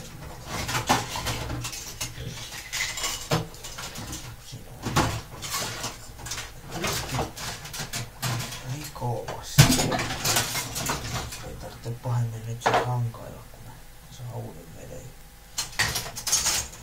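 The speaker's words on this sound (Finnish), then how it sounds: "voi alkaa tiskailemaan. Pitää ottaa täältä vanha vesi pois." Dishes washed by hand in a home kitchen: plates, pots and cutlery clatter and clink in irregular bursts close by, with water sloshing as old water is drained, and a few knocks in between.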